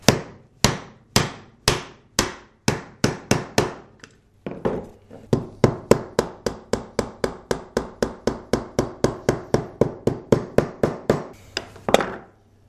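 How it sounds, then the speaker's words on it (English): Repeated sharp hammer strikes on a chisel removing a plastic piece from an aquarium light base, dozens of quick metallic taps in a steady rhythm with a brief pause partway through. "I'm going to take this and remove it using a hammer and chisel"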